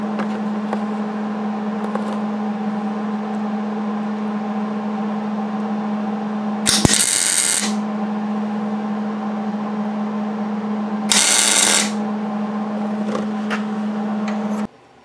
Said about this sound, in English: just tack welded these on the end here, just to position them